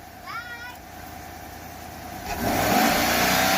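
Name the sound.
Chevrolet Silverado engine revving with cold air intake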